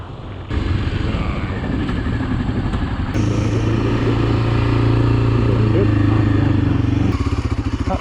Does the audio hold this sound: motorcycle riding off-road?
yes